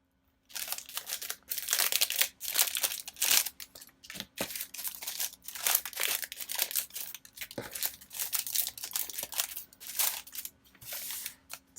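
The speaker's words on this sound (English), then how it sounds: "I found some more of these Jolie's Boutique journaling cards. So I'm going to open these real quick." Crinkly plastic wrapping being torn and handled while opening packs of journaling cards, a steady run of close rustling and crackling bursts with brief pauses, no talk.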